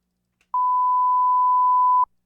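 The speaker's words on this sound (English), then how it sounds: "I have this cool little sensor beep here." A single pure censor beep, a steady mid-pitched tone lasting about a second and a half, alone against silence.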